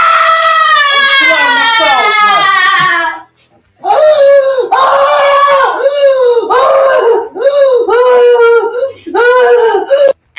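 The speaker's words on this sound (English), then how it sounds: "This woman couldn't even muster words and just screamed during her meltdown." A woman screams and wails in a distraught meltdown after an election result, loud, long, broken cries repeated in bursts with short gaps, close and harsh.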